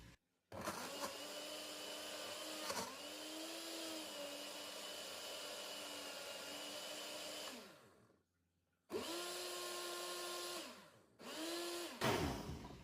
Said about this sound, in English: Then I will put in my blender. Then I will blend, make it very smooth.